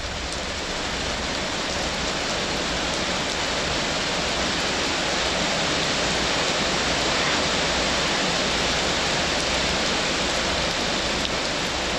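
Heavy tropical rain pours down in a dense, constant roar of drops on surfaces, loud and unbroken for the whole stretch with no talking.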